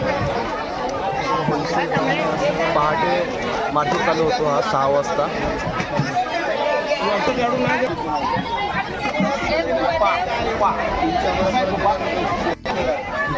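Dense, constant crowd babble fills a busy wholesale fish market in Palghar in the early morning, with many overlapping voices and someone talking close by.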